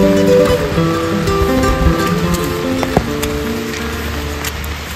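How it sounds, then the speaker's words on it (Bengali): Heavy rain falling while hiking in Yousmarg valley, Kashmir, a steady dense hiss of rain on surfaces throughout, close and continuous, with faint tones and a brief knock partway through. "এখন কিন্তু জোর বৃষ্টি নেমে গেছে।"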